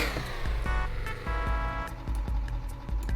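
A car engine in the Dreams PS4 game revs loudly, its rising and falling whine repeatedly cut by rhythmic low thumps across a few seconds.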